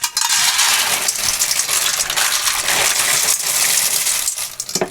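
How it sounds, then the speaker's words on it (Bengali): Raw peanuts pour out in a loud, dense rattling stream close to the microphone, a continuous clatter of small hard kernels tumbling into a container before roasting on a clay stove, with no voices. "বাদাম প্রায় 100 টাকার বাদাম রাখছিলাম এখানে ঢালি"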